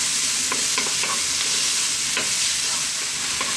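Chopped onions sizzle and fry in a hot pan while being tossed and stirred, a steady close crackle broken by periodic scraping and tossing clatters, with no talking.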